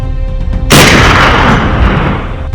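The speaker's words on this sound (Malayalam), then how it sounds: "അടുത്ത നിമിഷം വെടി പൊട്ടി." A single loud gunshot in a Malayalam audio drama about a hunting trip, fired at a wild boar by pulling a cord at night. The sharp, sudden blast follows a quiet, tonal background and decays into a long, rolling rumble.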